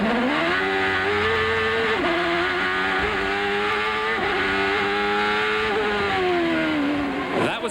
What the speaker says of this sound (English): That's where you see him fish for gears, and then he got the blast of acceleration.